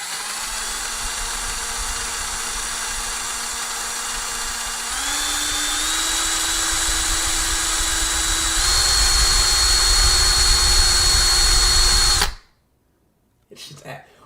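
A power drill spins corn on the cob held against someone's teeth, giving a loud, steady, close electric whine that steps up in pitch twice, runs continuously for about twelve seconds, then cuts off abruptly, leaving brief faint noises.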